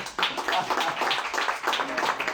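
A lecture audience gives light, uneven clapping for a few seconds, fairly faint and moderately close, with no voices over it.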